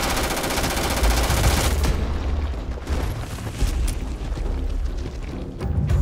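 Sustained automatic gunfire in a Starfield firefight against a group of enemies, a loud dense stream of rapid shots that thins after a couple of seconds into scattered bursts and impacts.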